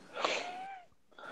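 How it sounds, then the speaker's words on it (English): A person wheezes once, a short rasping, whistling breath that rises and trails off, then a faint second intake follows after a brief pause. "Sorry if I wheeze a lot,"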